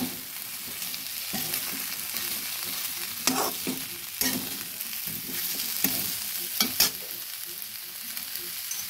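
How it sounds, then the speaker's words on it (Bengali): Mixed vegetables stirred into frying spices in a pan, giving a steady soft sizzle with repeated scraping strokes of a spatula and occasional sharper clatters, close and alone without voices. "মশলাটা যখন কিছুটা ভাজা হয়ে আসবে এবার সমস্ত সবজিগুলো মিশিয়ে দিচ্ছি"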